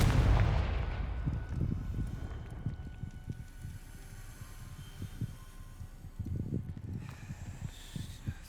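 The Confringo explosion spell in the video game Hogwarts Legacy lands as a loud fiery blast at the start, followed by a run of dull, uneven thuds and crackles that gradually ease off.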